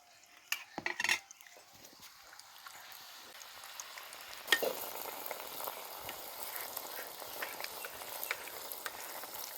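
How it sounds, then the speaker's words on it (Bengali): Malpua batter goes into hot oil in a kadai. Quiet clinks and stirring come first, then a steady soft sizzle of frying builds and holds, with no talk. "তেলের মধ্যে ছেড়ে দিচ্ছি"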